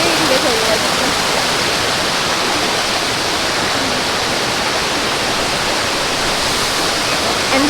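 Changey waterfall near Kolakham in Kalimpong roars as a close, loud, steady rush of falling water that fills the whole stretch without a break.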